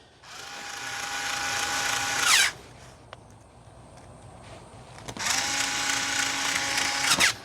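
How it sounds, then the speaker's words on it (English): A small power drill whirs in two long bursts with a short quiet gap between, driving screws into an orchid planter basket, close and loud, with no talk. "for the sake of demonstration and to speed things up a little bit, we have a little drill"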